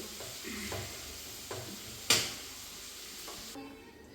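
Chopped jackfruit frying in a pan on a Kerala home stove gives a faint, low sizzle with a few soft stirring clunks and one sharp scrape near the middle, no voices.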